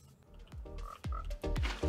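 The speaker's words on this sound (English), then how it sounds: "At least I saw a frog." Frogs croak in a Minecraft swamp, several short rubbery croaks in an uneven sequence, fairly quiet and near, with no talk over them.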